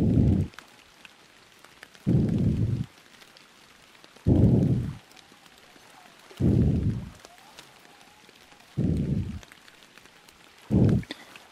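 Rain falls in the fishing video game Fishing Planet as a steady, faint hiss, broken every couple of seconds by a loud, low, rushing burst.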